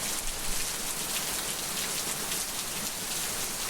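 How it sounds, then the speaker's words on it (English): Steady rain falls all around, a dense even hiss of drops on surfaces with no voices or other sounds. "can you hear that rain, y'all?"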